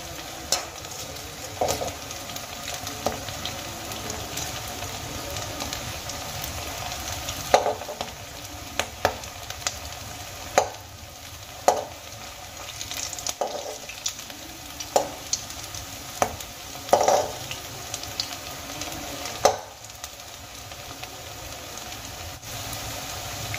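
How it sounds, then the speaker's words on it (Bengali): Rice flour snacks fry in a shallow layer of oil with a steady close sizzle and crackle, broken by sharp clicks and scrapes from a utensil turning the pieces; no talking. "এক পাশে আমার ভাজা হয়ে গেছে,"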